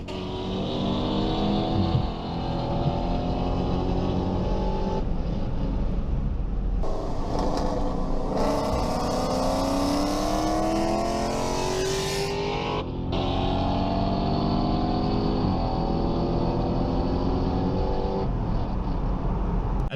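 Engine roar from a Dodge Challenger ScatPack racing an SRT 392 Challenger fitted with a ProCharger, loud and continuous through shifts, with rising gear-pull sweeps and a surge of high-revving wind and whine near the middle.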